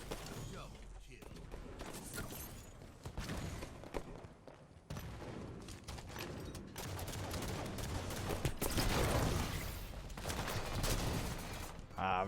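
Rapid sniper rifle shots crack out in bursts during a Halo 5 match, dense loud gunfire layered with game effects and commentary over the top.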